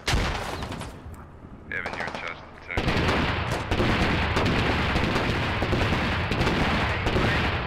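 Heavy automatic gunfire in the tactical shooter game Squad, during a railway derailment operation, with sustained bursts after a quieter stretch of scattered shots and a faint voice early on.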